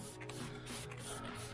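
Decal remover sprayed onto the body of a van after the old decal and glue have been scraped off, a steady close hiss of spray continuing for under two seconds with no talk.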